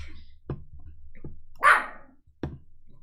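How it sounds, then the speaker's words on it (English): A small dog barks at the door, three or four sharp separate barks with one louder, higher yelp in the middle, close by in a quiet room. "She's too busy barking at the door instead."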